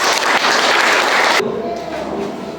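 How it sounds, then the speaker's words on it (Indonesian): A class bursts into dense, loud applause from many hands for a little over a second, then it cuts off abruptly to a quiet room hum with a faint trailing clatter. "Berikan tepuk tangan untuk kita"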